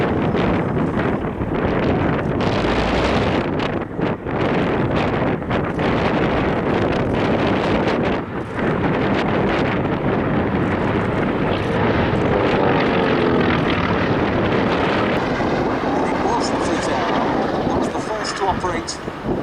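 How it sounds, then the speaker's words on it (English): A Consolidated PBY Catalina flying boat with wingtip floats extended passes at the Duxford air show, its propeller engines a loud sustained roar with wind buffeting, while a commentator talks over it. "as indeed the Catalina comes past us now, with those wingtip floats extended."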